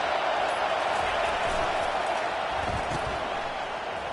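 A stadium crowd in the NCAA 24 college football game roars steadily as the home fans rise behind the defense on third down, a dense, continuous wash of cheering that stays loud throughout.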